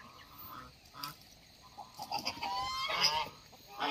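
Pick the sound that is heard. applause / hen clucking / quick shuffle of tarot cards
hen clucking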